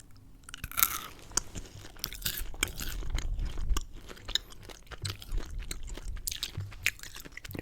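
Close, wet chewing of sour gummy candy during an ASMR candy mukbang: continuous squishy mastication with crunchy bites and small clicks, intimate and quiet with no talking.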